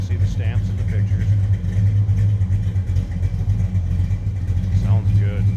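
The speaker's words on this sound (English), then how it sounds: "Slip around to the back so you hear it run. Again, 383." A 1970 Plymouth Road Runner with its numbers-matching 383 V8 idling from behind the car, a deep steady low rumble that stays loud and even, with occasional brief speech on top.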